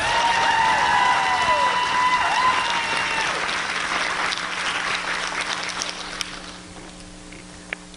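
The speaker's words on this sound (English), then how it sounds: "Let's give them a round of applause." Outdoor rally crowd claps for speakers, a broad steady patter of applause mixed with a few cheers and whistles early on, gradually thinning and fading toward the end.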